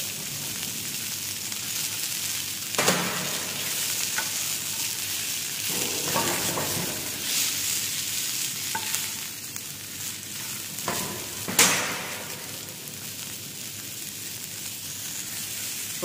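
Mushrooms sauté with garlic and onion in a hot pan, giving a steady, close sizzle broken by a few sharp scrapes and clatters of stirring.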